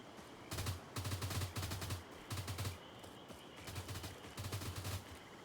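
Bursts of automatic gunfire from a S.T.A.L.K.E.R.-style video game, five or six rapid volleys separated by short pauses, sharp and fairly close, with no talking.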